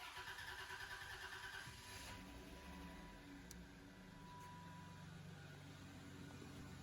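A Dodge Intrepid engine starting just after its fuel filter was replaced: a faint, muffled crank that catches and settles into a steady, low idle, heard from some distance with no voices.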